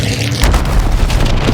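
A grenade explodes in the video game Hunt: Showdown, a loud, close boom with a deep rumbling tail that carries through to the end.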